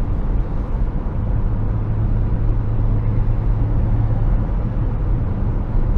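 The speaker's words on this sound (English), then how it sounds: "This is the first time I have actually been able to do wide open throttle on like empty roads like this." Saab 9-3 Turbo X engine pulling at wide open throttle on an empty road, a loud, steady low rumble with road roar heard from inside the car, no talking.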